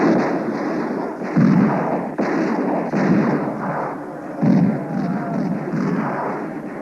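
Sustained heavy gunfire from a film prison riot scene at Attica, with dense overlapping bursts and booming blasts rolling continuously at close range, with no break in the barrage.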